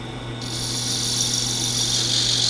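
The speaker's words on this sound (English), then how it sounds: "I'll finish it with this little screwdriver gouge" A small screwdriver gouge cutting resin on a spinning wood lathe, a steady motor hum under a continuous hissing scrape that grows brighter after a moment.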